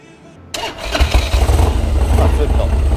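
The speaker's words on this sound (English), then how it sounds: "switch on the motor so you guys can hear the exhaust sound." A 1999 Harley-Davidson FXD Dyna Super Glide motorcycle engine cranks and catches after a brief quiet moment, then settles into a loud, steady, low rumbling idle close by.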